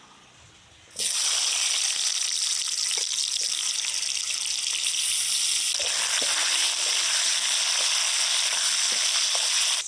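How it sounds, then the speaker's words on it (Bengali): Potatoes coated in salt and turmeric frying in hot mustard oil in a kadai: a sudden loud, bright sizzle bursts in after a quiet second and continues strong and steady, with a few small clinks. "এবার গরম তেলে নুন হলুদ দিয়ে মাখানো আলুগুলো ভেজে নেবো"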